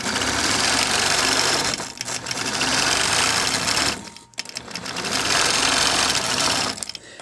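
A sewing machine stitches a quilt with a loud, steady, rapid mechanical whir, near and running almost continuously, with one brief pause before it starts up again.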